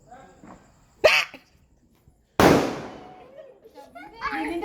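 Two sharp firecracker bangs go off a second or so apart, the second louder with a crackling tail, amid faint background voices.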